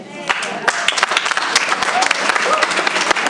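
A school board meeting audience applauds newly National Board Certified Teachers with dense, loud clapping throughout, and a voice is faintly heard beneath it.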